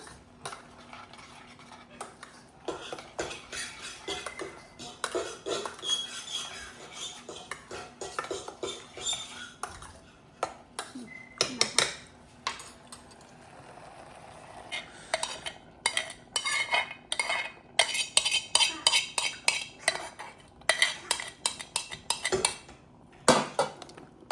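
White sauce pasta mixture stirred in a pan with a metal utensil, repeated scraping and clinking strokes against the pan in an uneven rhythm, close and clear with no voices.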